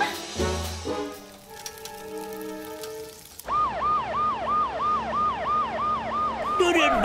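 A cartoon fire truck's siren wails in a rapid rising and falling pattern, loud and continuous, after a brief burst of other tonal sound effects.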